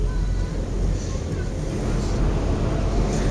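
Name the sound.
wind blowing around a cable car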